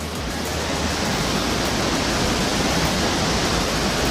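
Steady, dense roar of falling water from the lowest tier of a waterfall in Meghalaya, loud and close, filling the whole clip without voices.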